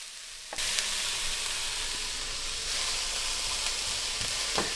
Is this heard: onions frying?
yes